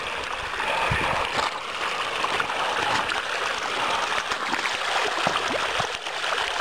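Water pours steadily from a buried pipe at a pipeline construction site, a continuous close rushing and gurgling like a small stream, with faint splashes throughout.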